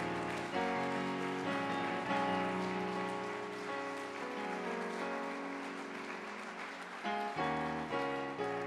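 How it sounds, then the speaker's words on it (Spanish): A church congregation applauds with dense, sustained clapping that fills the space, with brief pauses and surges, and no talk over it. "Dale un aplauso a nuestro Señor."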